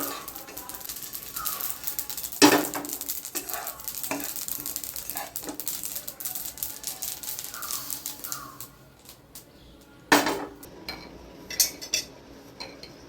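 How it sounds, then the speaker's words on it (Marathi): Makhana (fox nuts) being stirred and dry-roasted in a pan, light rattling and scraping of the spoon with a faint sizzle, a couple of louder knocks against the pan, quieter stretches in between. "हलवत राहायचं चांगले भाजायची जळू द्यायची नाही फक्त मग ती फुटते ना छान"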